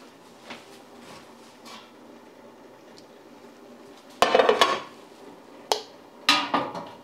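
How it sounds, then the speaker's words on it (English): Glass canning jars of homemade ketchup are set into a hot water canner, giving a few sharp glass clinks and knocks in quick clusters near the end, after a quiet stretch of faint kitchen background. "then we're gonna put it in the hot water canner"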